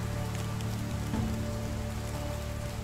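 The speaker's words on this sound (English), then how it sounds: "why is it raining so much?" Steady rain falls continuously in the video game Medieval Dynasty, a dense hiss of drops pattering on a surface with a low constant hum underneath, no voices.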